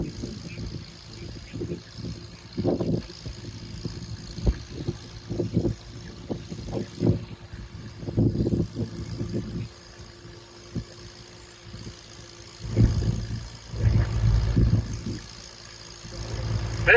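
An antique Allis Chalmers WD45 tractor engine works at a tractor pull at a spring gas-up in Saegertown, PA, rising and falling in uneven surges of low mid-range rumble, fairly distant and punctuated by louder bursts.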